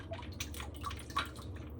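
Water drips into a dish while a peach torte is being made in a kitchen, with a few faint, sparse plinks over a low background hum.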